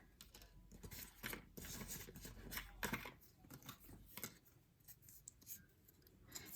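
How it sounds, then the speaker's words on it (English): Craft paper horns and hands for a Valentine's Day monster bag are scored, giving close, quiet scraping strokes in short irregular bursts. "I'm going to score our horns and handsies."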